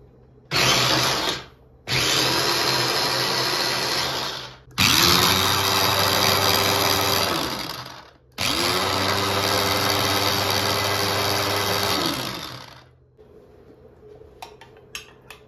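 A handheld electric whisk whips a sauce of garlic, oil, salt and lemon. Its motor whirs loudly in four separate bursts, each short pause followed by a longer run of steady high-pitched buzzing.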